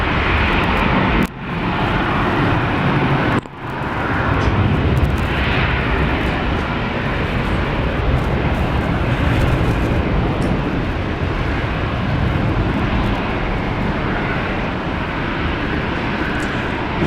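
A Jetstar airliner on its takeoff roll on runway 19 left at Brisbane International Airport, a steady, loud, broad jet engine roar heard from a distance with no talk over it.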